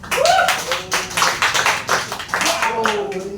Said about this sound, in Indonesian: Boleh tepuk tangannya dong.